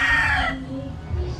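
A Sweater Gilmore gamefowl stag rooster crows once, loud and close. The harsh crow lasts about half a second and then trails off into low farmyard background noise.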